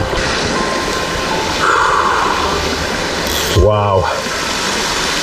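A waterfall on a wild brook trout stream pours into a plunge pool, making a loud, steady, close roar throughout, with a brief exclamation from a voice partway through.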